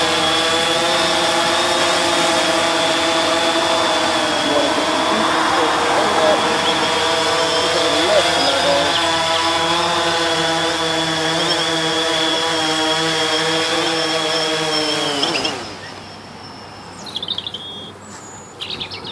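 A DJI Phantom 3 Standard quadcopter's motors whine with steady harmonic tones as it comes in to land among trees, loud and close, then the motor pitch drops and the sound cuts out abruptly near the end, leaving quieter ambient noise.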